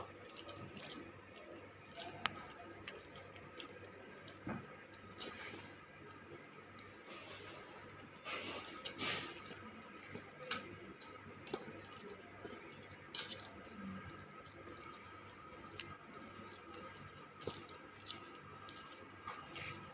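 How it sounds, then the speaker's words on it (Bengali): Fish is mashed by hand for a recipe, giving soft, wet squishing and dripping sounds, close and quiet, repeating irregularly over a faint background hum. "আমি মাছটা নিয়ে নেব, ভালো করে চটকে নেব।"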